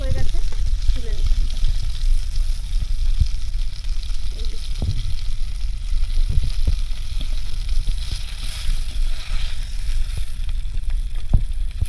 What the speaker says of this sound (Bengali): মাছের এক পিঠ একদম পুরো লাল করে ভেজে নিয়েছি, অপরটা উল্টে নিলাম।